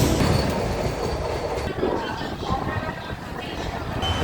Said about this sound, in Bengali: পাঁচটা পঁয়তাল্লিশের ট্রেন পাঁচটা উনপঞ্চাশে ছাড়লো হাওড়া স্টেশন এইমাত্র ছেড়ে বেরোচ্ছি এখন